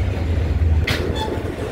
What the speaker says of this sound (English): This is a Jamaica Center-bound E train.